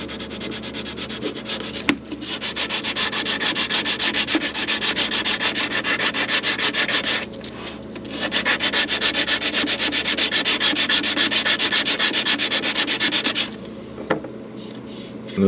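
Steady hand sanding with 180 grit sandpaper on a piercing's inner wall, a continuous close scratchy rubbing that stops briefly twice before resuming.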